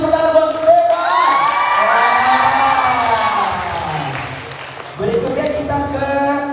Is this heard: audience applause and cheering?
yes